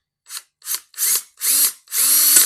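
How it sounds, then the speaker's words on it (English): A power drill whirs in five bursts, each longer than the last, the motor spinning up and biting into the body metal of a 1968 VW Beetle, close and loud. "See if the drill bit will go."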